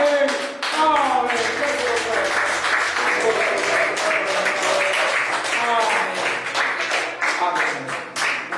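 A church congregation claps steadily in rhythm as an offering during a Sunday service, dense and loud throughout, while a voice speaks and calls out over the clapping.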